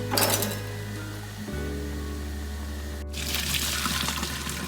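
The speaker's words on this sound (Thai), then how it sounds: "Take from the hot water out and put cold water" Water pours from a pot of hot pasta, then cold water runs over the noodles to rinse them in a kitchen, a steady rushing stream that shifts tone midway and brightens with splashing near the end.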